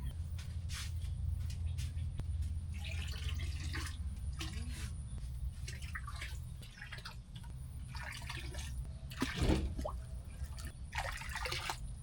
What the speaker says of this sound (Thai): ใส่ปุ๋ย A ก่อนครับทุกคน ผมจะไปเริ่มใส่ท ีละกล่องเลยที่ผมเปิดไว้